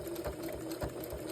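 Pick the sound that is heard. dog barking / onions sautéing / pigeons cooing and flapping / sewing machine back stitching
sewing machine back stitching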